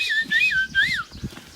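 A person whistles an imitation of a western meadowlark's song, a run of bright, sliding melodic phrases rising and falling, close and clear, with faint low rumbling underneath.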